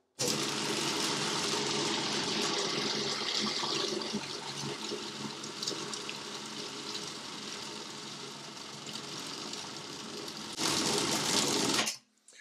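A bowl cutter chops Lyoner sausage meat with salt, curing aid and ice, giving a loud, steady whirring roar close by for about ten seconds, then a higher surge before it stops abruptly.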